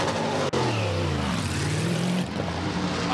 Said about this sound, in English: we'll be able to hear the beautiful song of that big 6-liter Cadillac